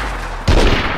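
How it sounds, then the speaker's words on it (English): Gunfire in DayZ erupts as a sudden, loud crack halfway through and rolls into a rumbling burst of shots over a steady background hiss. "Oh, shots!"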